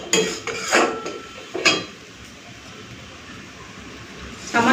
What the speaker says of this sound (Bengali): এটা একটুখানি ভেজে নিই, তারপরে জল দিয়ে দেবো।